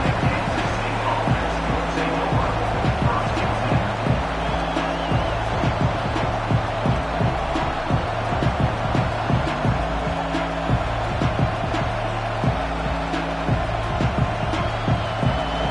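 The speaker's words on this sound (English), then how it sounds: "This crowd, full throat, splitting the eardrums and letting them know it's going to be a long day." Steady, loud stadium crowd roar in a college football video game against Nebraska, a continuous wall of noise with a repeating low chant or band rhythm pulsing underneath throughout.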